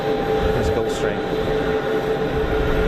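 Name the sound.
Gulfstream G550 business jet at Geneva Airport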